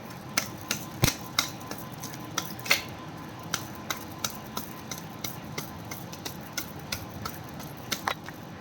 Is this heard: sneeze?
no